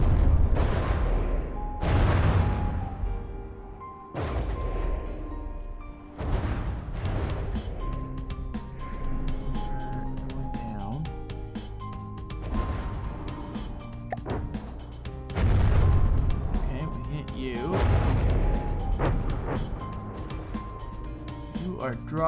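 Flak shells from a ship's anti-aircraft guns burst repeatedly in the naval game From The Depths, a steady run of loud booming blasts every couple of seconds, with a voice talking between them.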